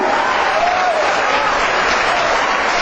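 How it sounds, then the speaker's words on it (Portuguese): Dense, steady applause from a church congregation during an evangelistic sermon, loud and unbroken for the whole few seconds, with no speech over it. "Você pode aplaudir a ele nessa noite"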